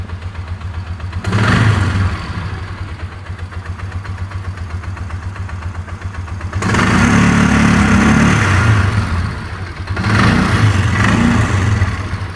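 A UTV engine runs with the choke on, idling with a rough low drone and rising three times into longer revs, close and loud, with no voices.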